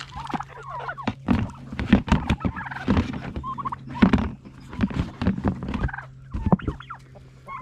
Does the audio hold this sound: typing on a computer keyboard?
no